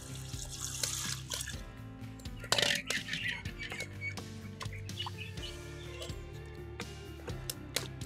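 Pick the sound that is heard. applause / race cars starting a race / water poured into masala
water poured into masala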